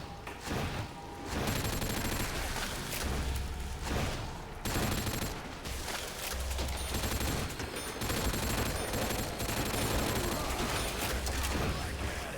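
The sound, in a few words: gunfire from a gun in video game Call of Duty World at War zombies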